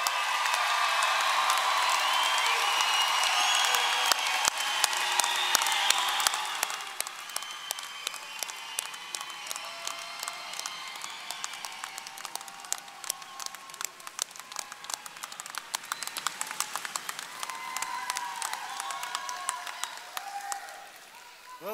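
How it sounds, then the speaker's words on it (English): Large graduation ceremony crowd at a university commencement breaks into loud, sustained applause with whoops and cheers, dense clapping filling the space before thinning to steadier scattered claps. "Let's give them a round of applause."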